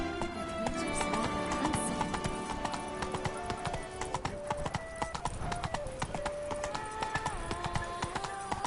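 Horse hooves clip-clop in a steady trotting rhythm in the video game Witcher 3, with game music and occasional voices in the background.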